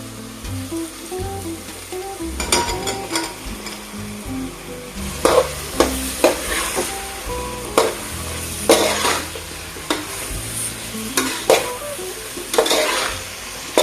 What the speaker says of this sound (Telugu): ఇది పచ్చి వాసన పోయేంత వరకు అయితే వేయించుకోవాలి ఇప్పుడు దీంట్లో మనం ముందుగా కట్ చేసి పెట్టుకుందాం మష్రూమ్స్ అయితే వేసుకుందాం